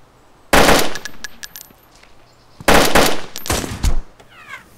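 Sniper gunshots in the survival game DayZ, with two loud sharp cracks several seconds apart, each followed by ringing echoes and smaller impact clicks, against a quiet background.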